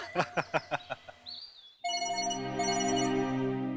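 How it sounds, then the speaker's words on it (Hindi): A few short percussive knocks, then a steady electronic telephone ring begins and continues, close and clear. "अरे पूनम को फोन"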